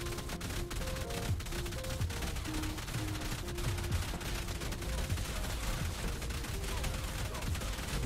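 Rapid automatic gunfire rattles continuously in an Ark PvP raid, dense and fairly distant, with faint tonal game sounds beneath and players talking over it.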